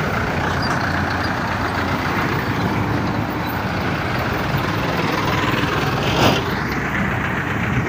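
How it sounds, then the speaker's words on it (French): Heavy traffic rumbles continuously at a busy Koumassi interchange, a dense wash of truck, bus and car engines close by with a brief higher whoosh near the end. "Il y a tellement de véhicules."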